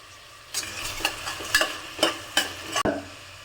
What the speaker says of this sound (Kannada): ಈಗ ಈರುಳ್ಳಿ ಹಾಕಿ ಸ್ವಲ್ಪ ಫ್ರೈ ಆದಮೇಲೆ ಟೊಮೊಟೊ ಹಾಕೊಳ್ಳೋಣ